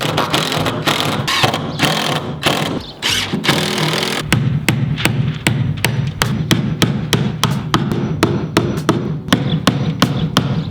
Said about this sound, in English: I'm just gonna put some nails in there.